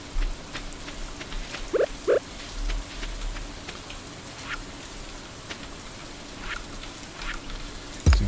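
Steady soft rain patters throughout a Stardew Valley farm scene, broken by a couple of brief chirping blips and a thump at the end.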